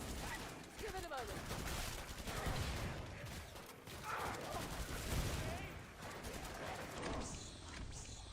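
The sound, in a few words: gunfire from the video game Killing Floor 2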